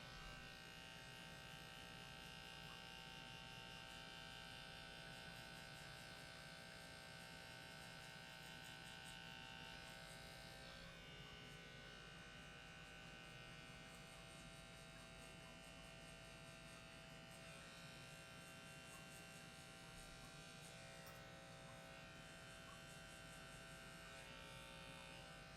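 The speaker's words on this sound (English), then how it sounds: "I like to take the edge of my clippers once again and kind of just dig into this line" Electric hair clippers buzz steadily and close up while cutting a man's hair, a continuous even drone that holds for the whole stretch with small shifts in tone and no talking.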